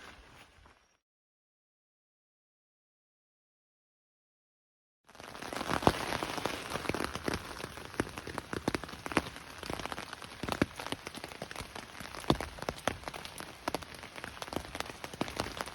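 Steady rain pours down on an Appalachian Trail campsite, a dense continuous patter with scattered louder drops, starting abruptly after a brief faint sound and a few seconds of silence.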